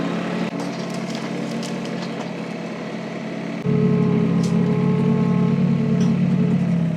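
A tractor engine runs steadily up close while its grapple lifts a heavy tree trunk, and partway through the engine note jumps to a louder, deeper labouring drone that holds under the strain, with no talk.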